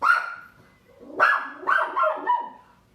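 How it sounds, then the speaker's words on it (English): A pet dog indoors gives one bark, then a cluster of three or four higher, yelping barks and whines a moment later, close and clear with no talking over them. "I should have put the dogs outside first."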